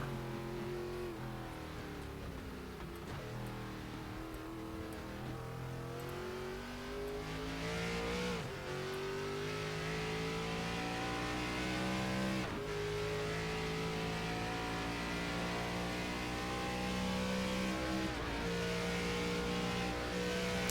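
Race car engine heard from onboard during a Grand Prix of Portland race, revving hard through repeated gear changes, pitch climbing and dropping in steady cycles, loud and close, with no talking.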